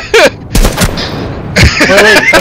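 Loud, close gunfire in the Rainbow Six Siege video game, with several sharp shot bursts separated by brief gaps, under excited shouting from players.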